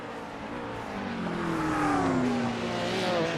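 Race car engines from a GT Sprint Series America sim racing event drone loudly and continuously, their pitch rising and falling as the cars accelerate and shift through a lap, with no talk over them.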